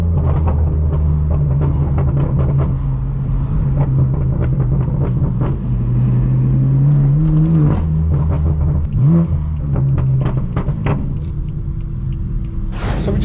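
A straight-piped BMW M4 F82 drives with a loud, deep droning exhaust, rising and falling as the engine revs and shifts, with a constant low rumble heard from inside the car.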